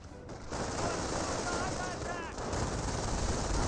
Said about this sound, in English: This our squad is doing quite well with CMG-42, but taking fire from multiple sources.